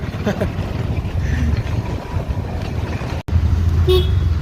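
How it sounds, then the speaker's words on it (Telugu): Riding in an auto rickshaw on a road in Dimapur, Nagaland: a close, loud engine drone and rattle runs throughout, with a few short horn toots near the end. "ఆటో రైడ్ ఎంజాయ్ చేస్తున్నాను"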